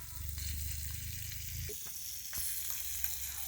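Fish sizzling steadily in hot oil in a pan, a continuous close frying hiss with a low bubbling rumble that fades partway, plus a few light clicks of a utensil.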